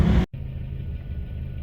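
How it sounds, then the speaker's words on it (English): Geo Tracker with an 80-horsepower Suzuki engine running while driving, a short burst of loud noise that cuts out, then a steady low engine drone heard from inside the cab. "But this is a Suzuki motor, so it doesn't mind revving up."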